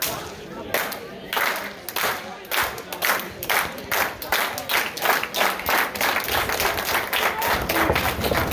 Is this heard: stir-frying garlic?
no